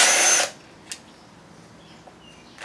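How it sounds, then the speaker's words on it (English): A power tool spins briefly and loudly at the start, pulling side bolts from the main caps of a 2007 Chevy 5.3 engine, then cuts off into a quiet room with a couple of faint knocks. "I want to pull the side bolts out of this"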